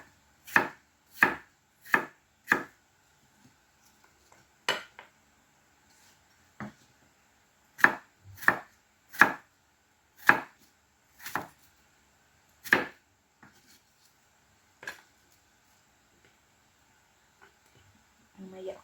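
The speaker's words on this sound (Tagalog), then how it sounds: "Hiwain lang natin siya into cubes para siya pare-pareho." A knife chops apple and cucumber for a salad into cubes on a board, giving a series of sharp, close, distinct knocks in irregular bursts separated by quiet pauses.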